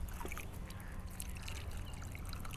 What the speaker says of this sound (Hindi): पानी भरो तसल्ली से आराम से